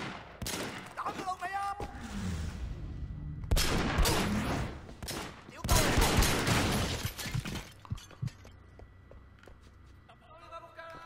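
Gunfire in the video game Sleeping Dogs, bursts of loud shots and heavy blasts coming in clusters, with quieter gaps between them and someone talking over parts of the action.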